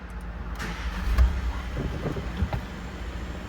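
Volkswagen Caddy 2.0 TDI diesel restarting after fault P2563: a short starter crank followed by a low, steady engine idle, heard up close with no talking.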